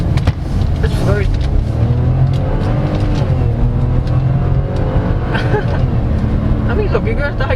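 A 2022 Chevrolet Tracker LT Redline accelerating to high speed, with steady engine and road noise heard from inside the cabin; a voice talks over it throughout.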